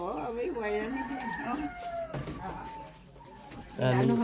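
Chickens cluck and call nearby at a house in the Philippines, with a rooster's crow-like wavering cry among them, while people talk in Filipino in the background.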